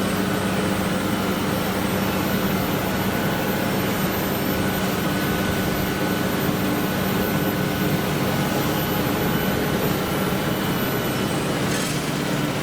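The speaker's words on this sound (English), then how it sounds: "This is the asphalt actually being laid now." Road paving machinery lays asphalt with a steady, loud mechanical drone and engine rumble that persists unchanged throughout, with no voices over it.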